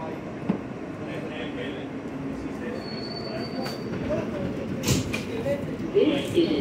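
A New York City subway R160 G train entering and leaving Fulton St station rumbles steadily with rail noise and a few metallic squeals and clanks, close by, while a voice talks over it.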